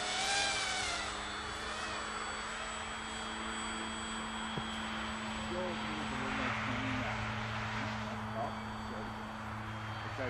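A Flite Test Scout RC plane, scaled up to 185%, drones steadily at half throttle, its engine and propeller giving a continuous buzzing hum with a slight pitch shift, while people talk over it.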